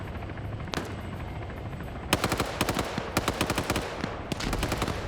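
Video game combat with a helicopter overhead: a steady rotor drone rolls underneath as rapid bursts of machine gun fire crack out in several close, rhythmic volleys.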